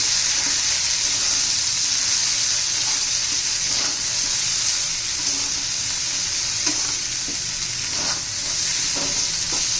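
Pods of a wild monsoon vegetable (abhay shenga) fry in hot oil with coriander powder, turmeric and salt while being stirred, giving a steady close sizzle with soft scraping stirs throughout and no talking.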